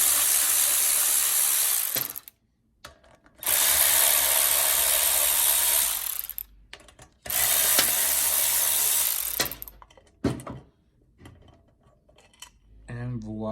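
A power tool removing 8mm valve cover bolts on a Predator 212 engine, with three loud sustained bursts of whirring separated by short pauses, then a few brief clinks, close up.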